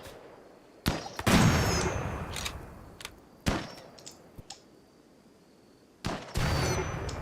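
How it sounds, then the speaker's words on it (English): Gunfire and explosions in a cow-defense video game, with sharp shots and heavier booming bursts spread irregularly over several seconds, some close and loud, others fainter. "Oh, Cambry got away from that explosion."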